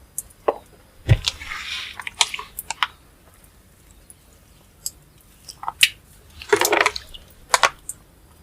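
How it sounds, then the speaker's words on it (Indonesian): MSG fertilizer solution is poured around a plant until it runs through the soil, making soft, intermittent splashes, gurgles and squishy trickles close by. "siram sekelilingnya sampai ngocor"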